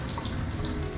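Water streams steadily from a pull-up waterfall faucet with hot and cold control into a sink, a continuous splashing rush at close range with no talk over it.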